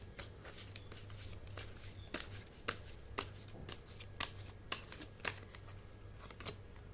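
Tarot cards are shuffled and drawn from a deck, giving a string of soft, crisp flicks and snaps spaced irregularly, close but faint against a low background hum.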